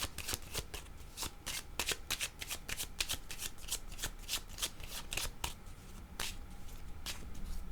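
A deck of oracle cards, including Kepler cards, being handled and shuffled up close, producing a quiet, dense run of rapid riffling flicks and soft card slaps with no voice.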